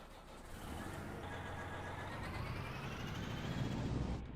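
Farming Simulator 19 truck engine rumbling steadily at close range, a continuous low drone with a faint warning tone rising near the end.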